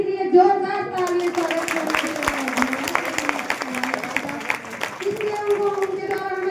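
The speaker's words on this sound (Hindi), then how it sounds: "एक बार भैया और दीदी के लिए जोरदार तालियां" A congregation at a Sunday testimony gathering claps loudly in a brisk, steady rhythm, while a sustained voice carries over the clapping throughout.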